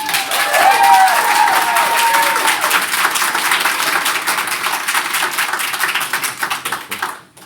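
Audience applause fills a school board meeting room, a dense burst of clapping that swells early, holds steady and then tapers off into quiet at the end.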